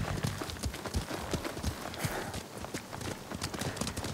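Horse hooves clip-clop in a quick galloping rhythm in the video game Ghost of Tsushima, moderately loud, with faint rustling in the background.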